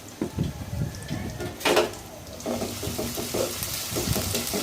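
Onion, ginger and garlic fry in hot oil with a steady sizzle and scraping stirs, a brief louder burst midway, and a voice speaking faintly over the cooking.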